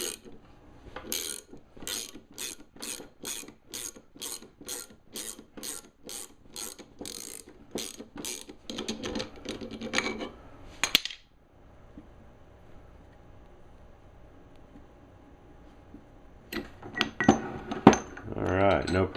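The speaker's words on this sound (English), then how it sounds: "I'm set up to try to pull the pulley off of this with this bearing separator" A bearing separator and puller clicking and ratcheting as it draws the pulley off a Delta 22-540 planer, a steady run of sharp metallic clicks followed by a pause and then louder clanking near the end.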